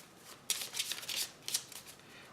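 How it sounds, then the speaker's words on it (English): A deck of cards for the Sylvion board game being shuffled at a tabletop, with several crisp, close riffling bursts of fluttering paper in quick succession and no speech. "Okay, so let's shuffle up again."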